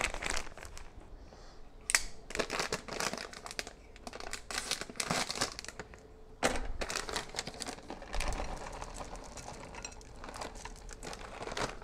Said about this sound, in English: some chocolate chips. Not much left in this bag, but I do have another bag ready.